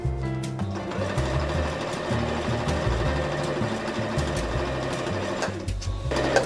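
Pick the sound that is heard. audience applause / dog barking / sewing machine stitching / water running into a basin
sewing machine stitching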